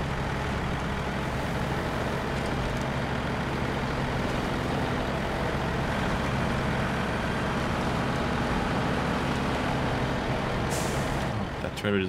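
In the SnowRunner game, a heavy truck hauling a trailer over rocky terrain rumbles with a steady loud engine drone and rattling, ending with a sharp air hiss, while a voice talks over it.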